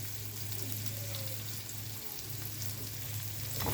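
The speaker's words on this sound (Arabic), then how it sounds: "هشوح الثوم والبصلة" Sliced onions and minced garlic sauté in a tray, making a soft, even sizzle that runs continuously over a low steady hum and swells a little at the end.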